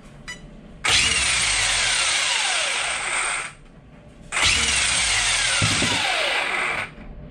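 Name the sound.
twin-motor RC car motors revving under throttle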